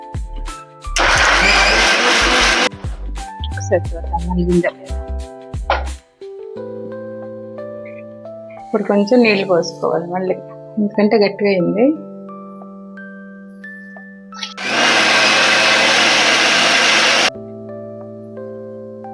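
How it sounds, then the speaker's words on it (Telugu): A mixer grinder blends boiled horse gram, chillies and onion in two loud, steady bursts, one near the start and one near the end, with someone talking in the quieter stretch between them. "ఇవన్నీ వేసేసి ఇందులో మిక్సీ పట్టుకోవాలి"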